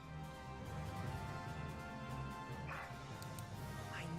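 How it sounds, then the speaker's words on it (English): Rags, a dog in the Valkyria Chronicles 4 video game, gives a couple of barks over a dense, continuous game soundtrack and background noise, the barks fairly brief and partly buried in the mix. "I know that bark. It's Rags"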